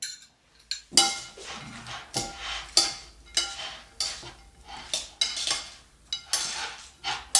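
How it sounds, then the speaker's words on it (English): Bottarga and celeriac salad being dished onto plates, a run of close clinks and scrapes of utensils against plates and a bowl, coming in irregular bursts with short pauses between, no talking. "I'm now going to try to dish it up into plates"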